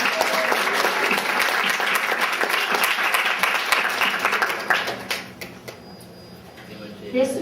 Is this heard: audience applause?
yes